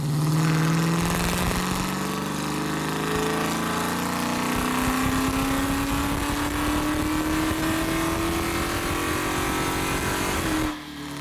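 A Dodge Charger R/T with the 392 engine and an upgraded intake manifold is run on a dyno, its engine note held loud and steady while rising slowly in pitch through a long pull, then cutting off at the end.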